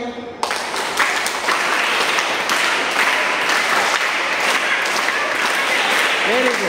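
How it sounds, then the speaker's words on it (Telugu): Scout students performing scout claps make a loud, continuous wall of group clapping that starts suddenly after a short spoken moment, with faint voices mixed in. "స్కౌట్ క్లాప్స్ బాగున్నాయా?"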